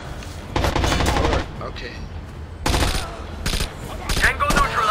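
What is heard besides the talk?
gunfire in video game Rainbow Six Vegas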